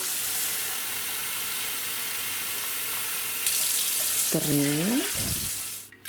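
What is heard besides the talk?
cold water pouring into jars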